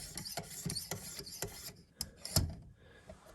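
Knife blade strokes on a Work Sharp Precision Adjust sharpener make a rhythmic series of close, raspy scraping passes, about a dozen strokes slowing into a few sharper clicks near the end.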